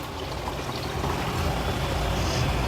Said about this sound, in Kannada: ಅದಕ್ಕೆ ಇವಾಗ ಜಾರ್ ತೊಳೆದಿರೋದು ನೀರು ಹಾಕ್ತಾಯಿದ್ದೀನಿ